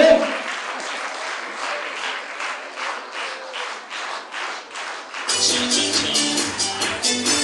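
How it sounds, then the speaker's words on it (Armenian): Audience applause at a Miss & Mister Arabkir pageant greets contestants for a rhythmic dance round, a steady wash of clapping that continues as rhythmic dance music enters loudly partway through. "ծափարում եք և դիմավորեք"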